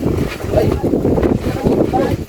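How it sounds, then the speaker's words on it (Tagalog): Strong wind buffets the microphone with a heavy, rumbling roar that rises and falls, and voices can be heard talking beneath it. "Lakas pa tayo ng hangin."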